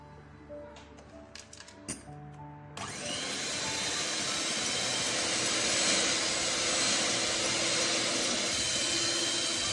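An electric mixer whisks egg foam with sugar for sponge cake, a few brief bursts and clinks giving way to a steady, loud continuous whir that runs on unbroken to the end.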